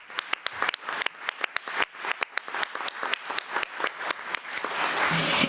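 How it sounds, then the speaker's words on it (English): Audience at a school board meeting applauding, a run of sharp, separate claps from a small group, moderately close and steady for several seconds, then blending into denser clapping near the end. "So let's give Miss Kendall Jenkins another round of applause."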